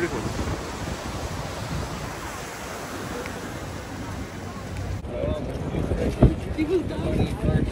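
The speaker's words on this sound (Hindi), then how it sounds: "अभी थोड़ी हवा तेज चलने लग गई है" Strong wind buffets a sea deck at Coney Island over waves washing below, a rough, steady roar that turns louder and gustier in the last few seconds.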